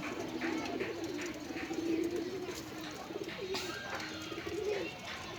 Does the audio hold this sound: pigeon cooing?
yes